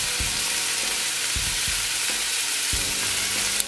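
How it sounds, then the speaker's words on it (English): Onion frying in curry gives a steady, bright sizzle throughout, with a few soft low knocks of the pan or spoon now and then. "There's something about onion cooking in curry."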